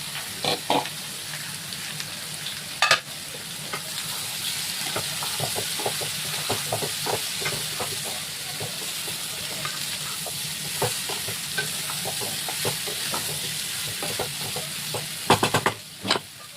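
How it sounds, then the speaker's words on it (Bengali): Young jackfruit frying in hot oil under a cover, a continuous close sizzle with frequent sharp crackles and pops, bursts clustering near the start and the end. "এঁচোড়টা দিয়ে দিচ্ছি, তেল গরম হয়ে গেছে। এভাবে আমি এঁচোড়টাকে ঢেকে ঢেকে ভাজবো।"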